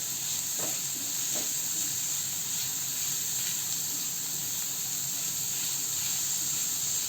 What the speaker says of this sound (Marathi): त्यामध्ये बारीक चिरलेला कांदा परतून घेऊया